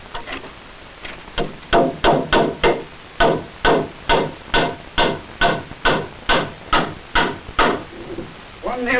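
Nails hammered into a wooden beam while building a shelter joist support, a steady series of about fifteen sharp, close wooden knocks at a regular rhythm.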